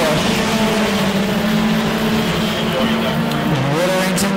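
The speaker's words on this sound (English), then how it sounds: "Car doesn't sound all that great when it comes by the front straightaway" A Scrambler-class race car passes along the front straightaway of a short oval track, its rough-sounding engine droning loudly and steadily with a slight pitch drop near the end, while crowd and track ambience fill the background.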